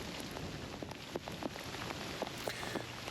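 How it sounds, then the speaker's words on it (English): Torrential rain pours steadily on a tarpon fishing trip near Jekyll Island, Georgia, a dense, continuous hiss with scattered droplet patters, fairly quiet overall and with no voices. "I think I've got about 3 or 4 minutes of video of it raining like this"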